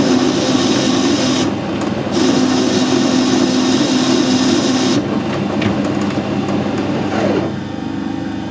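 Metal filing on a sharp edge to put a chamfer on it, a continuous loud rasping scrape that pauses briefly and resumes, close to the microphone.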